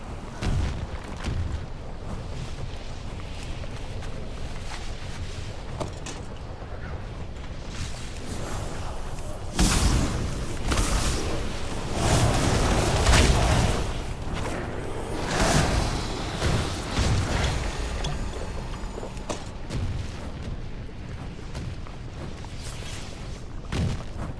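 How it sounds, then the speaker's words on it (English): Spell effects in World of Warcraft, arcane missiles and an arcane barrage, fill a continuous stretch of game sound. Dense whooshes and booms swell and fade over a busy background. "Gotta remember to use missiles before I launch off that barrage."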